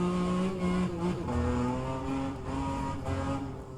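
A BMW M2 CS at full throttle in rFactor 2, its engine note climbing loudly and steadily, broken by a few quick gear shifts that drop the pitch before it rises again.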